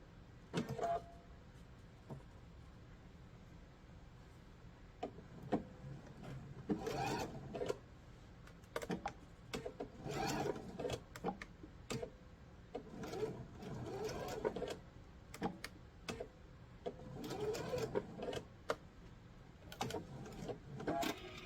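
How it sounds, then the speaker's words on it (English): A sewing machine stitches back and forth over a zipper on a bag, in several short intermittent bursts of whirring, moderately quiet and close. "we're going to sew back and forth, 4 or 5 times so that we can secure that end"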